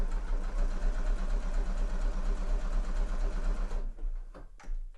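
A sewing machine runs steadily, stitching zigzag along a curved sweatshirt pocket seam, a continuous close mechanical whir that stops near the end with a few clicks.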